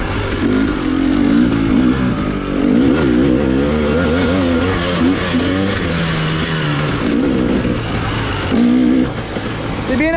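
A 2023 KTM 300XCW dirt bike engine under a rider, close and loud, rising and falling in repeated revs and throttle blips as it climbs and eases off over rough ground.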